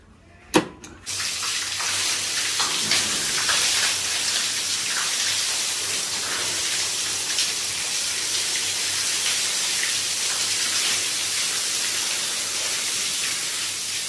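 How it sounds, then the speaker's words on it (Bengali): Water pours steadily onto potted plants in a continuous splashing rush that follows a couple of sharp knocks at the start and stays close and even throughout. "একেবারে গাছের উপরে জল পড়ে যাবে।"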